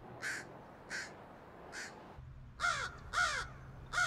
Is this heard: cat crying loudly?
no